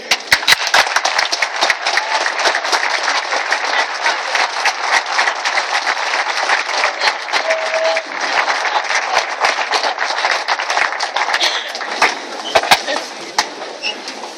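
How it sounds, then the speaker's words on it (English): A school audience gives sustained applause to honor teachers, loud dense clapping with sharp individual claps standing out near the start and end and a few voices mixed in. "standing up and giving the round of applause that they deserve"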